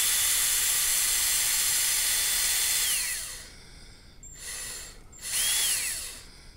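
Screws being removed from a plastic side panel on an MV Agusta motorcycle, a steady high-pitched power-tool whine running for about three seconds, then two shorter close bursts with falling and rising pitch sweeps.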